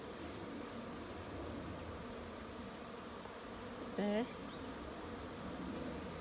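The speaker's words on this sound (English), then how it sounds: "can you hear the bees walking through the swarm?" A honey bee swarm fills the air with a dense, steady buzz up close while someone walks through it, and a short spoken word breaks in briefly partway through.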